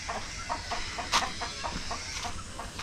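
A darag native Philippine chicken clucks in short, repeated bursts nearby, with one sharper squawk midway, over a steady outdoor background hiss.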